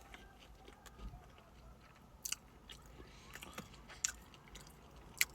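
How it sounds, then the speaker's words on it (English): Faint biting and chewing on a Brisket Whopper burger with barbecue sauce, a few soft crunchy bites standing out over a low, steady background hiss, close to the mouth. "Let me get another bite."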